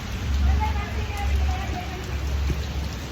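Rain falls steadily at Banbha hill station near Surat, a broad, even hiss of drops on surfaces with a low rumble underneath, and voices are faintly present.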